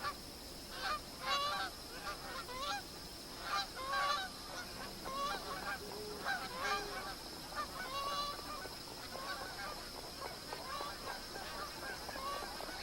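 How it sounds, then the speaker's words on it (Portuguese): Magpie geese at a billabong on an alluvial floodplain, a flock honking repeatedly in busy overlapping calls at mid distance, with a steady background hiss. "Os gansos malhados abandonaram o capinzal ressequido da planície aluvial e começam a se juntar no Billabong."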